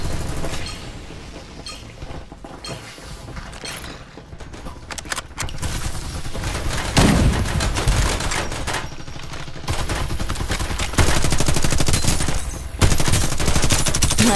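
Rapid gunfire from Farlight 84 rattles in dense automatic bursts that start sparse and grow louder and near-continuous, with brief gaps between volleys and a few sharp single shots.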